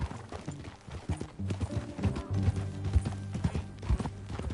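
Horse hooves clip-clopping in the Red Dead Redemption 2 video game, a steady close rhythm of hoof beats over ground with soft tonal game sounds underneath and no talking.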